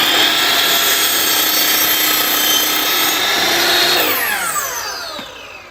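A power saw cutting a Millboard limestone composite decking board, a loud steady whining buzz that holds for several seconds before the tone drops and winds down as the blade slows.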